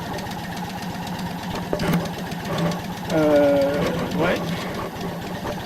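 A 2020 Indian Roadmaster motorcycle engine cranks on its automatic starter and settles into a steady, close, throbbing idle, while someone speaks briefly over it.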